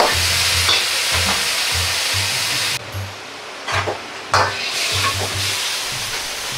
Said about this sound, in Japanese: 合わせ調味料に水溶き片栗粉を少量入れ、材料に吸わせるように炒めます。